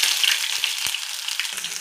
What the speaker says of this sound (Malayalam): മസാല വഴറ്റാൻ വേണ്ടിയിട്ട് വെളിച്ചെണ്ണ ഒഴിച്ചു കൊടുത്തു. പിന്നെ കുറച്ച് ഉലുവ ഇട്ട് കൊടുക്കാം.